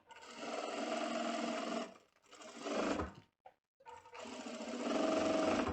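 A sewing machine stitches a fine seam on fabric for a buckled vest, running in steady close bursts with a brief pause and a short stop before resuming.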